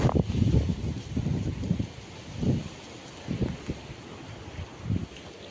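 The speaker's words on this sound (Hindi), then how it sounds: "दोस्तों, बहुत तेज आंधी आ रहा है।" Strong storm wind gusting outside a window, buffeting the microphone in heavy low rumbles that surge and fade in waves, loudest at the start and no voices.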